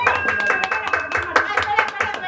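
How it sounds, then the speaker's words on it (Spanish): Guests at a birthday celebration with a mariachi band break into quick, close hand clapping, sharp rhythmic claps mixed with talking voices nearby. "El aplauso."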